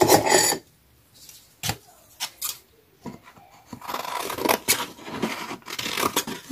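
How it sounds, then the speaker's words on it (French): Scissors snip through card in several crisp, close cuts, with short bursts of slicing and rustling separated by pauses while red monochrome card is trimmed by hand. "Donc là, je vais prendre mon ciseau."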